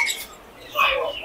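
Birds in a pet shop squawk and chirp in two short, harsh bursts close by, separated by a brief pause.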